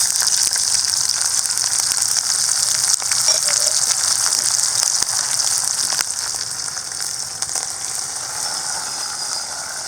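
Small shallots and curry leaves frying in oil with popped mustard seeds for a village-style mutton kulambu, a continuous bright hiss of sizzling that gradually softens.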